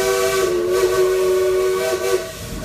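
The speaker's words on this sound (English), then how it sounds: "You like that whistle, buddy?" A steam train whistle on Dolly's Choo Choo at Dollywood blows one long, loud, steady tone for about two seconds, then cuts off. The whistle sounds close and stands alone, with no talking over it.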